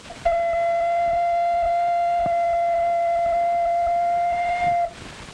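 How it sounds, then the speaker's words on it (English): An ocarina is blown loudly: a single steady, pure held note with faint overtones lasting about four and a half seconds, alone over light hiss. "Make a sound on this ocarina, Jimmy."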